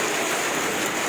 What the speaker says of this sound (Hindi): हो रही है बारिश।